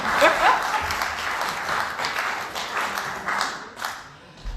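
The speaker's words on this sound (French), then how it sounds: "On applaudit Esther sous vos applaudissements." Concert audience applauding after a performance, a sustained wash of clapping at moderate level that swells and thins with some voices underneath.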